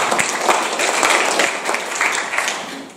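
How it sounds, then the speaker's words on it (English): A church congregation applauds together, a steady burst of clapping from many hands filling the room for a few seconds, close and fairly loud, with no voices over it. "Let's give a clap."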